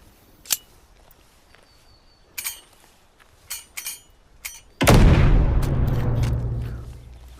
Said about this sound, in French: Alors les explosions elles sont vraiment terribles.